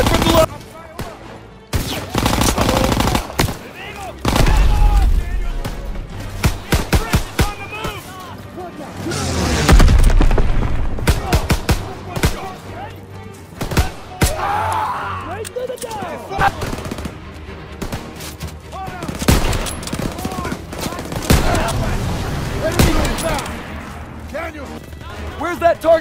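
Heavy gunfire in Call of Duty WW2 combat: sustained machine-gun bursts and rifle shots with booming explosions, loud and chaotic, while voices shout orders over the battle.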